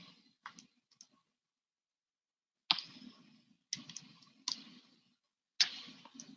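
Pen strokes tap and scratch on a tablet or writing board in short, faint bursts separated by pauses, quiet and close with no voices.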